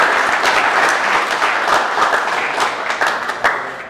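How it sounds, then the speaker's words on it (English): An office team audience applauding a returning intern at an all-team update, loud, dense clapping sustained for about four seconds, with no talk. "But give him a round of applause."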